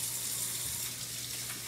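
Tap water runs steadily into a sink while hands are rinsed, a continuous close splashing hiss with no talking.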